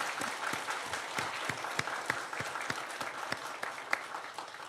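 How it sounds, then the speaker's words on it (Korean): A church congregation applauds a choir after a performance with two trumpets and two trombones, steady dense clapping at moderate volume throughout, with no voices over it. "우리 박수로 축하하게 격려하겠습니다."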